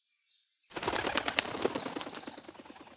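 A pigeon takes off and flies away, its wings flapping in a rapid, loud, close burst of beats that carries on for a couple of seconds after a brief quiet start.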